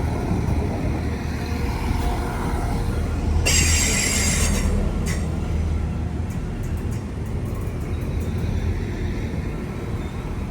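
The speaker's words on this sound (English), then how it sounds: "So folks, here's our train to Belfast Grand Central." Loud rumbling of a train pulling into a station in Northern Ireland, with a brief high metal squeal of wheels and a steady heavy roar nearby.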